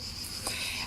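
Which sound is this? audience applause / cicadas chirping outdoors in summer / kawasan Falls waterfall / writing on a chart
cicadas chirping outdoors in summer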